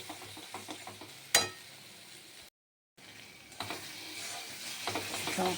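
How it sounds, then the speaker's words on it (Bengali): Coconut and poppy seed paste with bay leaves being stirred and fried in a pan for a party-style potol chingri dish, giving soft scraping and sizzling with a sharp clatter near the start and a short silent gap midway. "তেজপাতা দিয়ে দেবো, আর একটু কষে নেব।"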